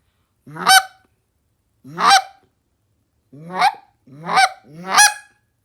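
Five sharp honking clucks from a goose call, loud and close, spaced out with the last three coming closer together.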